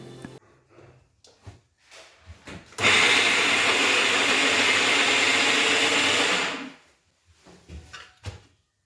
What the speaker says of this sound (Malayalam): ഇനി അരയ്ക്കാം.